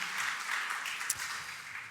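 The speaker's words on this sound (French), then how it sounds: "Vous entendez les applaudissements." Applause from an audience at a scientific conference keynote on climate and public health, a steady wash of many hands clapping for about two seconds at moderate distance, with no speech over it.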